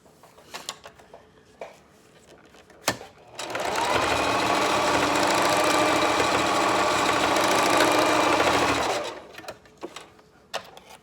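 A sewing machine runs a straight stitch through bikini fabric. It whirs steadily and evenly for about six seconds, close up, with light handling clicks before and after.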